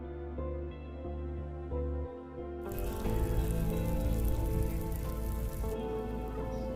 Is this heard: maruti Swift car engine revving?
no